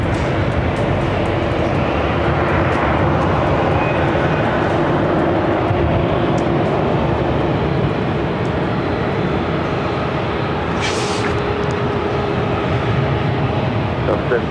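A Korean Air Boeing 747-8i taking off at LAX produces a loud, steady jet engine roar that lasts throughout, under faint radio chatter and nearby talk.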